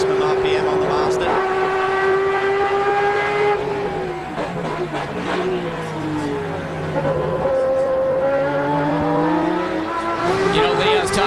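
A Mazda race car screams past at high RPM during a Grand-Am sports car race in Montreal, its sharp engine whine rising and then dropping as it goes by. Commentators talk over the engine.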